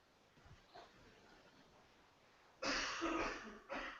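A person lets out two harsh coughs close by, one long and one short, after a quiet stretch with faint breathing.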